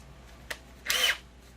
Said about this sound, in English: Let's try to use a drill on this.